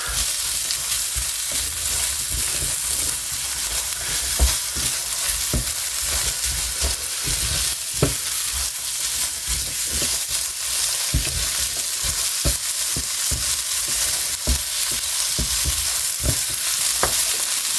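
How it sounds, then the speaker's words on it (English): Chorizo fries in an electric skillet with a constant bright sizzle, while a utensil scrapes and taps the pan at irregular intervals as it is stirred, close up with no talking. "I'm going to throw the chorizo in now. We're just going to move it around till it breaks down."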